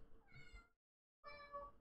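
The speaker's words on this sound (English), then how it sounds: "The fuck you meowing for?" A house cat meows twice, close and clear, with a short silence between the two calls.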